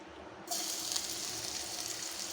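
Garlic dropped into hot oil in a pan for beef fried rice: after a quiet half second, a sudden loud, bright sizzle bursts in and holds steady to the end.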